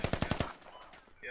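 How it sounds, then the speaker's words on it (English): A burst of about five rapid, loud, close AK rifle shots in the Squad video game, fired in quick rhythm and then cutting off to quiet ambience. "That's AK fire close."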